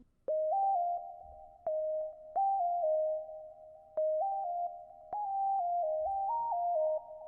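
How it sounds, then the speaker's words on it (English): A pure sine lead plays a simple counter melody in an FL Studio beat, with short clean tones stepping between a few notes in repeated phrases, bright and alone. "we have this little like sine lead counter melody on top of the other counter melody"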